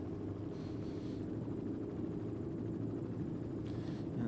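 A camera helicopter flying over a cycling race in Qinghai, China, heard as a steady low rotor rumble and wash, distant and constant throughout, with no speech.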